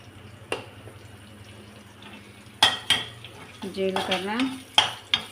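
Ginger garlic paste, green chilli, bay leaf and cumin frying in ghee, with a low sizzle under several sharp utensil clinks and a burst of stirring and scraping.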